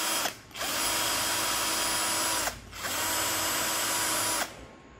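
An INNTech 28V cordless drill spins freely at speed setting 2, giving a loud, steady whine in three bursts, each one cut off by a short pause before the motor spins up again.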